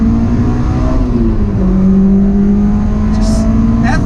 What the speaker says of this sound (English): especially for an engine like the S2000 that likes the revs, it really makes it rev up a lot smoother and a lot quicker